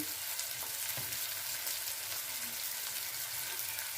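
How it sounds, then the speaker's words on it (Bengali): Chopped onions with salt fry in a pan, making a continuous, even hiss and crackle at close range, with a few faint stirring knocks and no speech. "পেঁয়াজটাকে একটু ভেজে নেবো।"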